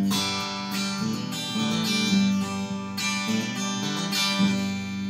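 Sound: Variax guitar through Zoom G3n acoustic simulation

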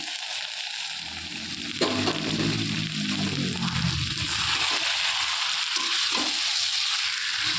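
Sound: chicken rezala with cashew, raisin and yogurt paste being stir-fried

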